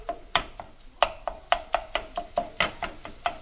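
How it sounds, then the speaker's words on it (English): Rhythmic tapping and scraping of a utensil chopping ground beef in a pan over medium-high heat, in an uneven series of sharp knocks close up. "we're going to chop this meat up"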